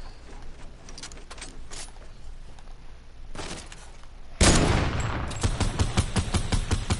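Gunfire in a shooter video game, a few separate shots followed by a louder burst of rapid fire near the end.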